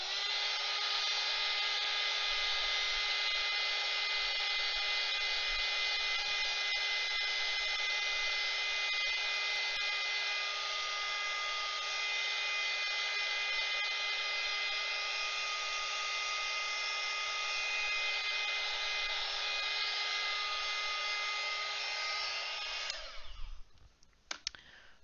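A hair dryer blows steadily on fresh paint on a wooden piece, a continuous even whine running for over twenty seconds before switching off near the end, with no talk.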